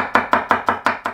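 Garlic cloves are chopped with a knife, six quick, even strikes against a cutting board in just over a second, crisp and close up with no voices.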